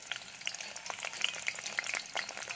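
Onions fry in oil in a pan with a dense, crackling sizzle that runs steadily throughout, close and continuous, with faint stirring scrapes mixed in.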